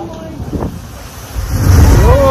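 Ocean water at the Nakalele blowhole on West Maui surges and bursts upward in a loud, rising whoosh of surf, heavy wind buffeting the microphone throughout.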